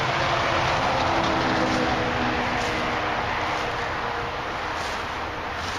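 Steady broadband roar of heavy trucks and traffic passing on Route 13 fills the air, loud and continuous with a slight fade toward the end, no voices over it.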